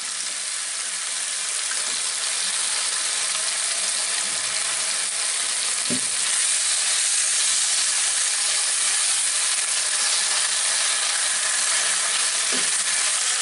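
Beef for Mongolian beef fries in oil in a pan with a steady, loud sizzle and hiss, broken by a few sharp pops or stirring knocks.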